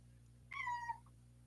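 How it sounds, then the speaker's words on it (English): A single cat meow, a short rising-and-falling call lasting about half a second, fairly faint against a low steady background hum. "That's my cat."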